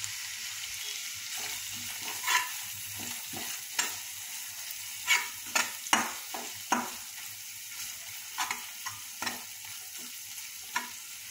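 A spice paste with chili powder fries in a pan for an onion-based hilsa fish dish, a quiet steady sizzle broken by scattered scraping stirs of a spoon, with no voices.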